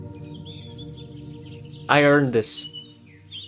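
Peaceful birdsong in Silent Hill 3 chirps and tweets softly in the background, briefly covered by someone speaking over it before the calls carry on.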